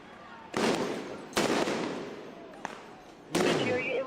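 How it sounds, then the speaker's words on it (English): A flashbang grenade detonates at a protest. Several loud, sharp blasts ring out with long rumbling tails, spaced a second or two apart, over constant crowd noise. "Flashbang right in it."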